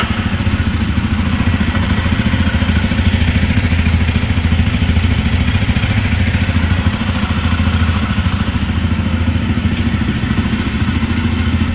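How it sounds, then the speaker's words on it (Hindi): A Jawa 42 2.1 motorcycle engine idles steadily nearby, its exhaust putting out a continuous low, throbbing rumble with a faint mechanical clatter, and no one speaking. "यहाँ से आप इसके एग्जॉस्ट के नोट को सुन सकते हो"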